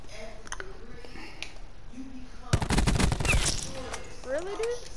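Cordite and Maddox guns firing in a video game, a loud rapid burst of automatic fire lasting about two seconds in the middle, with a player talking before and after.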